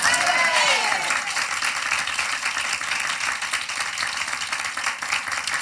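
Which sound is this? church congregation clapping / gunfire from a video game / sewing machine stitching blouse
church congregation clapping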